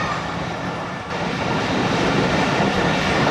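The Karakoram Express passenger train rolls past close by, a loud continuous roar of wheels and carriages with rattling clatter that swells slightly as it goes.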